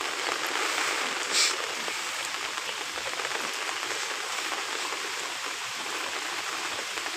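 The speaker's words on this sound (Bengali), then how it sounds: "এত বৃষ্টি এত পানি" Heavy rain pours down during flooding in a village, a dense, continuous hiss of drops beating on surfaces, loud and unbroken throughout.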